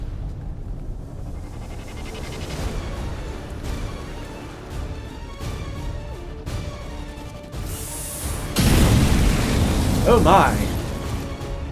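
A flamethrower in XCOM erupts with a loud, roaring whoosh of fire in the later part, swelling and crackling over game effects, with a brief excited voice heard earlier.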